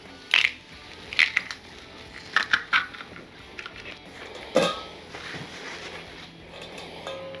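Whole unpeeled garlic cloves crushed in a kitchen, a series of sharp crunching cracks in short clusters over quiet background, with one louder crunch later on.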